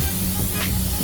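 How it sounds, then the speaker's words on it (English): A short, hissing burst of oil spray onto a snack tray over a low background hum, lasting about a second. "first I need to spray it with some oil."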